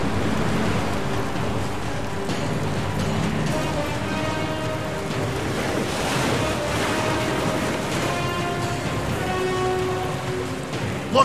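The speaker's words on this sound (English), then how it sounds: "Looks like this storm has set us all off the course." A storm at sea in the Viking game Ancestors Legacy churns with steady crashing waves and windy, rain-like hiss throughout, loud and continuous.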